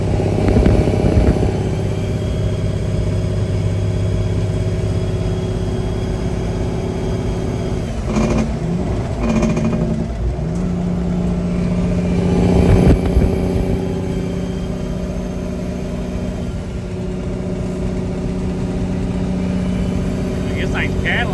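A vehicle with a 359 engine and a reverse 13-speed transmission accelerates through tall gears toward 70, its steady engine drone shifting pitch at gear changes, heard from inside the cab with someone talking over it.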